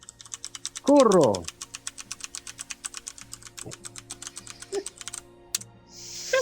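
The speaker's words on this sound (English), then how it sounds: "Can you hear the clickety clicks?" Rapid, steady clicking of computer keyboard typing runs throughout, close and fairly loud, with brief voice bursts over it at a couple of points and a short tonal sound near the end.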